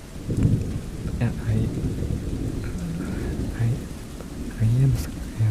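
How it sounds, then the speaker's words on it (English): A thunderstorm with steady, heavy rain and low rumbling thunder rolls continuously at close range, swelling louder near the end. "I hate thunder and I can't handle being alone during it."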